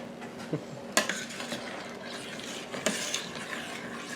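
A spoon stirs berry dumpling mixture in a pot on the stove, scraping and clinking against the metal with a couple of sharper knocks over a soft bubbling background, close and moderately loud.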